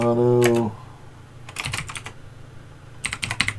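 Keys clatter on a computer keyboard as a command is typed into a terminal on a Raspberry Pi, two short bursts of close, crisp keystrokes after a brief spoken word at the start.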